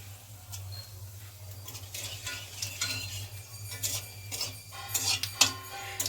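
Bay leaves and spices fried in a pan with ground cumin, stirred with a utensil that scrapes and clinks against the metal over a faint sizzle and a low steady hum.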